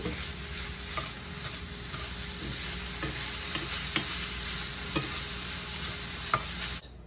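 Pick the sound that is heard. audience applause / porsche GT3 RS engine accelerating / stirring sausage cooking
stirring sausage cooking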